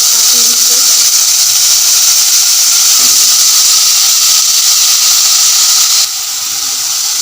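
Onions browning in a pan for a village-style black-masala mutton curry, giving a steady loud hiss and sizzle throughout that eases slightly near the end.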